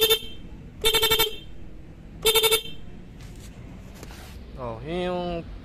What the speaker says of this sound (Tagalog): Nang napansin ko, humihina yung tunog ng busina.